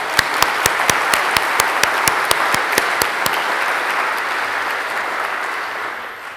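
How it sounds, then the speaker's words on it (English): Audience applause at an oration event, steady and full, with a few sharp individual claps standing out at a regular pace in the first half before the clapping gradually thins and fades. "Please clap, all of them."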